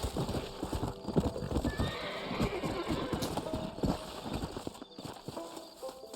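Clip-clop of horse hooves in a quick rhythm, with a horse neighing partway through, in Red Dead Redemption, game-like sound effects over a faint engine hum.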